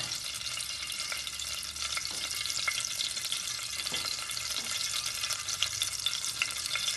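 Cardamom pods frying and starting to crackle in oil in a pan for bottle gourd halwa, a steady close sizzle with scattered small pops and light stirring, no voices.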